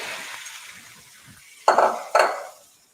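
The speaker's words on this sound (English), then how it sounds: "I'm just putting the shrimp in." Shrimp drop into a pan of garlic and butter, giving two sharp, close clinks and splashes followed by a soft sizzle fading out, with no talking.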